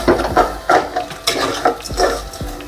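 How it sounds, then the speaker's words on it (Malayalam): Prepared fruits are poured into lightly browned sugar in a pan for an oven-free cake, giving a series of close clinks, scrapes and soft sizzling stirs in an irregular rhythm, with no talk. "ഇനി നമ്മൾ ആ ഫ്രൂട്ട്സൊക്കെ കൂടി റെഡിയാക്കി വെച്ചേക്കണത് ഇതിലേക്ക് പയ്യെ ഒഴിച്ചെടുക്കാം."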